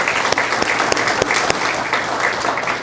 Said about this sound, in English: I think he deserves a round of applause because they've been great for us